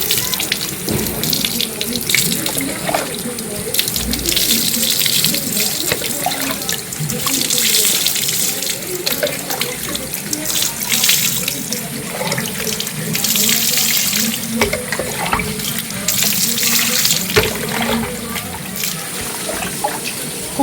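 Tap water runs steadily into a sink while hair is rinsed after shampooing, a continuous close gushing splash with brief faint talking mixed in.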